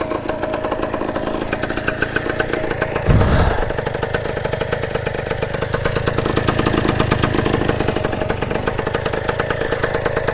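Engine of a 1970 Yamaha RT1 360 motorcycle idling with a freshly adjusted idle: a steady, close, rapid two-stroke putter with even pulses throughout, one brief low thump partway through, no talking.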